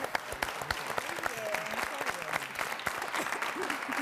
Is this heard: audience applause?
yes